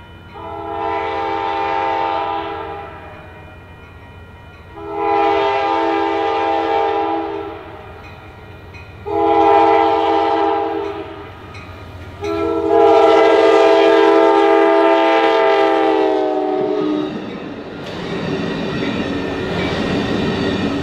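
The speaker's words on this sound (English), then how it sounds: "we would record our final train at Albany on August 4th. It was none other than Amtrak Cascades Train 505" Amtrak Cascades Train 505 sounds its horn in four long blasts at Albany, the chords sustained and loud with short gaps between, followed by the rumbling rush of the train passing close by.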